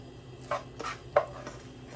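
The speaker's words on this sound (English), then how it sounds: "So now just gotta add the potatoes" Potatoes going into a pan for steak and potatoes, making three short clattering thuds over a steady low kitchen hum.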